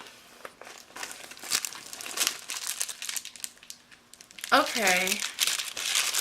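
Plastic packaging on a parcel holding a bag crinkles repeatedly as it is torn open, crackling in irregular bursts close by, with a person speaking briefly near the end.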